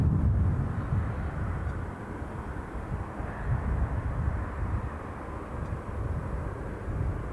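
An EasyJet airliner departing Newcastle International Airport gives a loud, sustained low engine roar that swells and wavers, heard from a distance.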